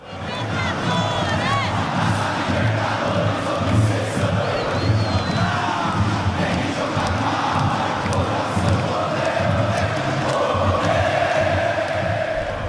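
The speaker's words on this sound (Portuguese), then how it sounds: "Como a torcida canta também" Palmeiras football supporters sing and chant together in a packed stadium during the 1999 Copa Libertadores, a dense, steady roar of massed voices that holds at full loudness throughout with no pauses.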